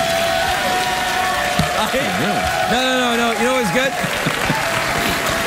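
Studio audience applause on a late-night talk show, steady broadband clapping throughout with someone talking clearly over it.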